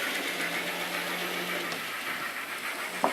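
An N scale model locomotive's sound card running on its own after overheating, giving a steady synthetic rumble and hiss with a faint hum, ending in a brief click.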